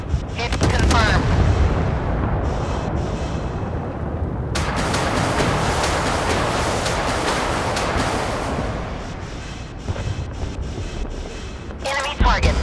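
Naval gunfire in the warship game Force of Warships, a loud, dense rumbling barrage of booming shots that fills the whole stretch with heavy continuous roar and a few sharp blasts.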